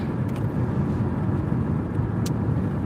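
Steady low rumble of a car with a 2.4 Ecotec four-cylinder engine cruising at night, a constant even drone with road noise and no talk.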